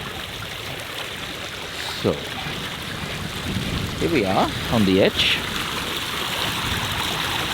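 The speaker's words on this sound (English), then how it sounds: "you see we have running water" Water in a seasonal creek flows with a steady, soft rushing wash under someone talking briefly near the edge of the creek.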